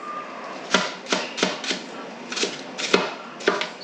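A knife chops vegetables on a board for refried beans, a dozen or so crisp close knocks in uneven bursts, with no talk.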